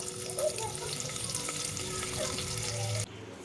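Onion dropped into oil with ginger-garlic paste for spinach rice, giving a steady, dense frying hiss that runs close and continuous before cutting off abruptly near the end, with no voices.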